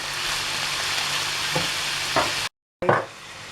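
Steady, dense sizzling of onions frying in a pan, with a few soft stirring scrapes and a brief silent gap near the end.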